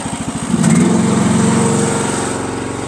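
Small gas engine of a Kymron YH14 mini excavator running at mid throttle, a loud buzzy drone heard from about six feet away, rising slightly early on and then holding a steady pulsing hum.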